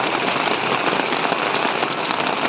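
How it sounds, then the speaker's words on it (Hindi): Steady, heavy rain falls outside a room under construction, a dense unbroken hiss of drops pattering on surfaces throughout, with no voices. "अब बारिश आ गई है"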